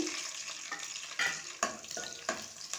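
Green chillies dropped into hot frying oil for a chicken curry, giving a steady close crackling sizzle with a few sharper spits and bursts as they settle and get stirred.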